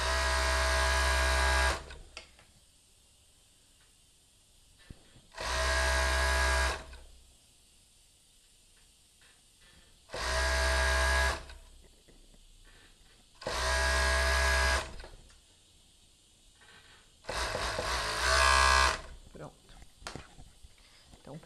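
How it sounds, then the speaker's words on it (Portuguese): A sewing machine stitches a lace-trimmed robe in five loud bursts of a couple of seconds each, separated by quieter pauses filled with faint handling sounds. "E aí é só costurar o restante"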